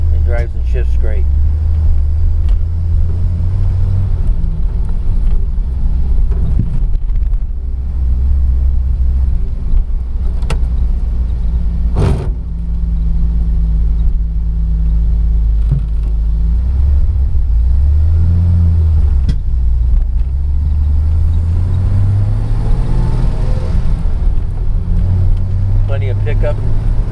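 A 1949 Dodge Coronet with fluid drive manual transmission drives along, its steady low engine rumble running continuously with brief changes as it shifts, while a person talks over it.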